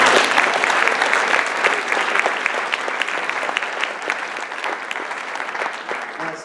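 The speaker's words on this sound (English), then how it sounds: "So let's give a big round of applause to Wabash General for being here." An audience at a college cadaver shoulder surgery event gives a steady round of applause. It is dense and sustained for several seconds and stays fairly loud throughout, with a faint voice underneath.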